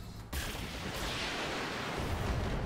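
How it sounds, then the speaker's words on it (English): Heavy mech weapons fire in a video game, opening with an abrupt loud blast that gives way to a sustained roaring barrage of shots and explosions. "Firing at this guy."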